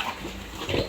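Soft, low grunting from piglets under a month old, a short close burst with a slight swell near the end, over a faint background hiss.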